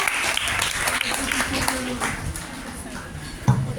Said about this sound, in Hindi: तालियों की गूंज में सानिया का इस्तकबाल।